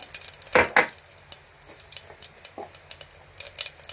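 Cumin seeds go into a spoonful of hot oil in a pan while pav bhaji is prepared, a soft steady sizzle beneath sharp metallic clinks of a spoon against the pan.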